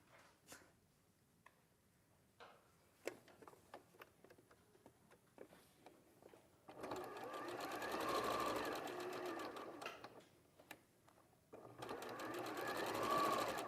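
A sewing machine stitches a quarter-inch seam in two sustained whirring runs, each lasting several seconds. Scattered light ticks and handling clicks come before the runs, with soft talk in the quiet gaps.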